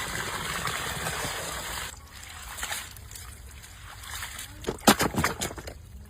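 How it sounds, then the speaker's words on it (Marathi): Sprouted beans (usal) are rinsed in clean water in a home kitchen, giving a steady near slosh and trickle for about two seconds, then quieter sporadic splashes and a few sharper splatters near the end. "पण आता उसळ धुवून घेऊ स्वच्छ पाण्याने।"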